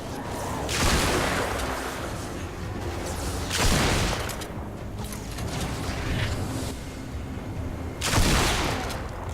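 Legendary orange-rarity shotgun in Fortnite firing from long range: several loud, booming blasts spaced a few seconds apart, each with a sharp crack and mechanical reload clatter between, over steady game ambience.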